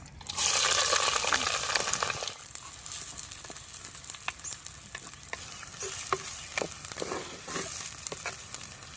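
Cumin, curry leaves, chopped onion and green chillies hit hot oil in a pan for an eggplant and dried fish curry, giving a loud burst of sizzling that settles into steady frying with repeated stirring scrapes.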